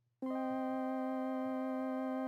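A sustained synth pad from Analog Lab swells in abruptly and holds a steady, smooth chord with rich, even tone, alone and clear throughout.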